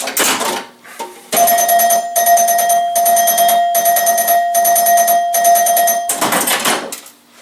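A 1978 Williams Lucky Seven pinball machine rings its score bells in a long run of rapid, loud, metallic bursts with a steady tone, framed by brief clatter at both ends and no talk.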